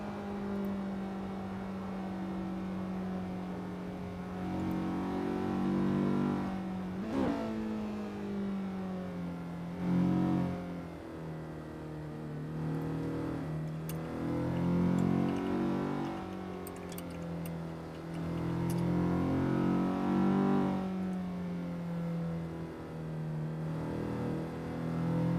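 Cars racing on a mountain touge course in a racing video game, engines droning and revving up and down in waves, with gear shifts and passes over several seconds.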